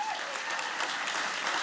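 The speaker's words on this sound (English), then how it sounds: "Go ahead and applaud, right on." Audience applause at a literary awards celebration, a dense even wash of clapping from a seated crowd that holds steady through the short stretch, with a faint voice briefly audible underneath.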